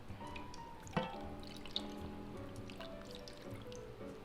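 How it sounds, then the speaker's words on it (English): Marinade poured over carrots in a pot for plant-based carrot hot dogs, a faint liquid drip and trickle with a couple of small splashes and soft wet squishes, quiet and close. "And we're just going to pour the marinade right on the top."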